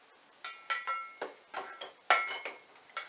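A utensil clinks repeatedly against a glass while foamy fresh juice is stirred, giving about ten sharp, bright taps in an irregular rhythm, close and fairly quiet with no talking.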